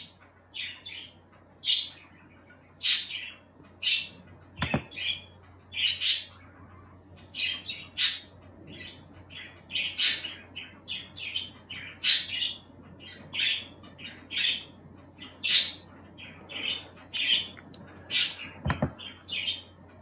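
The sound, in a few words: pet parakeet squawking and chirping loudly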